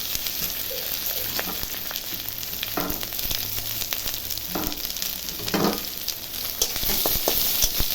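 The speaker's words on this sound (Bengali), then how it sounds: "এখন সম্বারের উপকরণটা একটু ভেজে নেব।" Crushed garlic and onions sizzle steadily in hot oil in a pan for dal, with brief stirring scrapes breaking through the continuous, close frying hiss.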